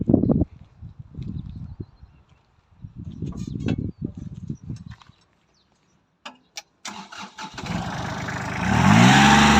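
Cold Kubota L3408 diesel tractor, with some low muffled talk at first, then clicks as the engine is cranked and catches into a loud steady idle.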